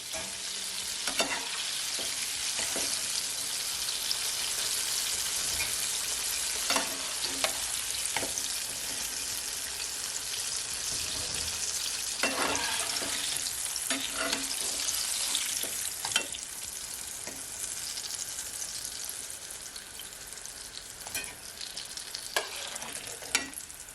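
Shrimp fry on a hot grill for salt and pepper shrimp, a steady loud sizzle running throughout with occasional scraping and stirring clatter from utensils.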